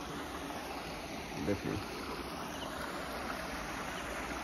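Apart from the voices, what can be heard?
water flowing from under a bridge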